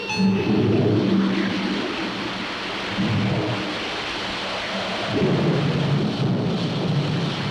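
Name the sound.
rain and thunderstorm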